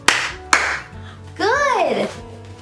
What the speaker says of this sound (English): Let's clap our hands